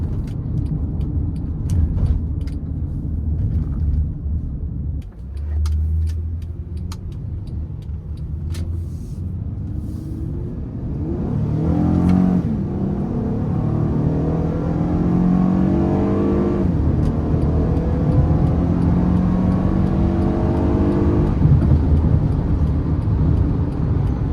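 A 2016 Honda Odyssey minivan's V6 engine revs and accelerates, a steady rumble rising in pitch over road noise, with rhythmic climbing tones heard from inside the car.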